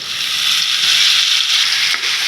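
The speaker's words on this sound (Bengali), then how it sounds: "এবার গুলে রাখা মশলাটা দিয়ে দিব" Chopped onion with bay leaf and a mixed spice paste frying in hot oil for a prawn and pointed gourd curry, a loud, continuous bright sizzle close up with no voices.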